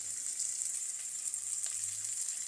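Ginger garlic paste sizzling in a pan of softened fried onions, a faint, steady close hiss over a short stretch with no talking.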